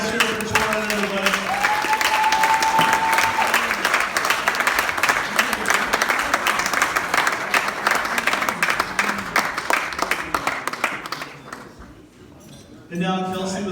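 Wedding guests applaud in a sustained burst of clapping from a crowd at a reception after a toast, steady and loud for several seconds before dying away and talk resumes.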